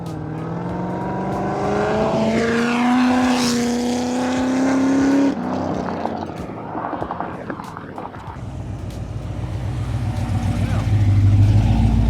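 A 2012 Corvette 4LT Lingenfelter engine roars and rises in pitch as it accelerates, sweeping past close by, then a rumbling drive continues with a voice briefly underneath.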